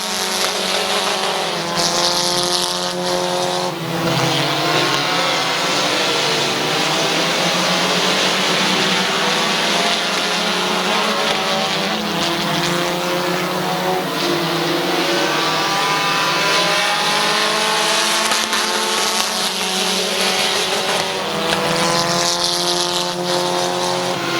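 Race cars roaring around the oval at Midvale Speedway, a continuous loud engine drone that swells and fades as the pack passes, sustained and dense with overlapping motors.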